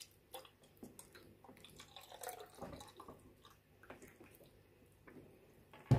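Culture medium for a Tetraselmis chui algae culture being poured into a container, a soft, uneven liquid trickle with small splashes and drips, fairly quiet and close, ending in a brief knock.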